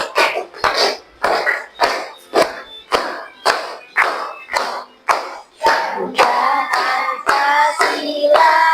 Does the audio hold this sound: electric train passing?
no